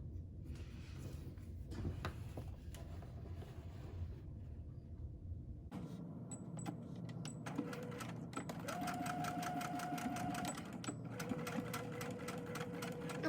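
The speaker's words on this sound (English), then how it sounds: "I'm going to stitch it onto the outer layer." A sewing machine stitches a lining onto the outer layer of a children's cloth face mask, a steady mechanical whir running continuously for most of the stretch, with brief pauses and faint handling noises.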